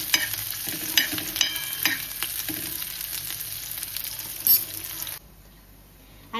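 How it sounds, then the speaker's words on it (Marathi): Capsicum and onion fry on a tawa for paneer tikka, a close, lively sizzle with repeated scraping stirs. After about five seconds it cuts off abruptly to a faint background hum. "शिमला मिरची आणि कांदा थोडासा फ्राय करून घेते"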